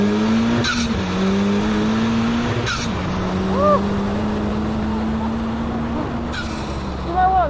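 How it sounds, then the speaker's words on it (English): An Ariel Atom 4, a 320-horsepower car with no bodywork and its intake snorkel just behind the driver's ear, accelerates hard. The engine note climbs steadily through several gear changes, loud and close, with brief breaks between pulls. "So if you want to know what 320 horsepower sounds like in a car with no bodywork"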